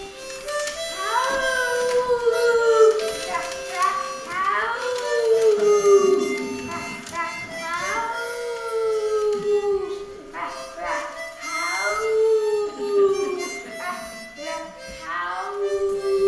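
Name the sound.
dog howling along to harmonica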